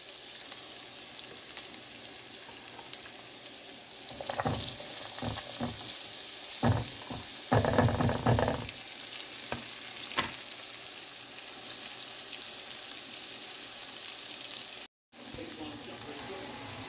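Sausage frying in a little oil in a skillet, with a steady sizzle throughout, louder bursts of crackling and stirring in the middle, and a brief cut near the end.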